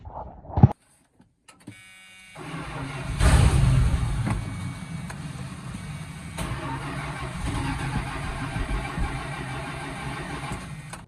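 A 1979 Dodge D100 pickup that sat for ten years cranks over after a brief click and a pause, with a steady, loud churning engine drone that runs for several seconds.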